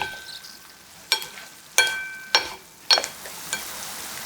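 Shishito peppers are stirred in a pan with mirin, corn syrup and sesame oil sauce, giving a soft sizzle under several sharp utensil clinks against the pan at irregular intervals.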